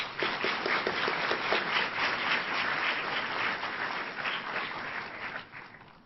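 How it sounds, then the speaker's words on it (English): Audience applause after a Buddhist Abhidhamma lecture and Q&A session, a dense steady wash of many hands clapping at an even level, tapering off toward the end. "Let's give all of them a big round of applause."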